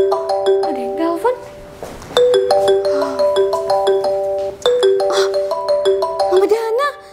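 Telephone ringing with a repeated electronic ringtone melody of bright tonal notes in several bursts, loud and close, with a voice speaking over it.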